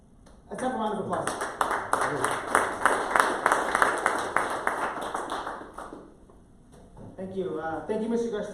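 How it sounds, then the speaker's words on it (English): Audience applause at a company draft-day event for a construction builder, a burst of brisk clapping lasting several seconds before fading, followed by someone speaking. "Let's have a round of applause."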